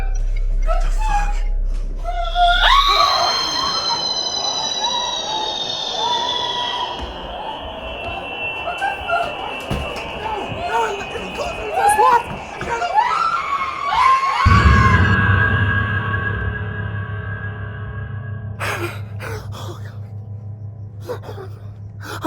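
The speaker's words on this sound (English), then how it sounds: "I just heard screaming and then nothing" Screaming in a horror film: shrill, drawn-out cries that rise and hold, loud and close, with gasps and frantic voices around them. A second burst of screams comes midway through.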